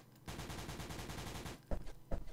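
Rapid automatic gunfire in the video game llumina, a dense continuous burst of shots lasting over a second, followed by two separate heavier single blasts, loud and close with no talk.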